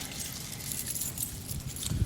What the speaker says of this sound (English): Where are my keys at?